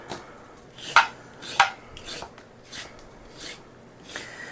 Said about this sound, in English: So I'm just going to peel some carrots.